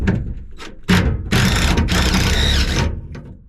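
Wrench work loosening 5/16 bolts on the straps of an old crusty gas tank, with close metallic ratcheting, clanks and thuds in bursts, building to a sustained stretch of loud mechanical rattling.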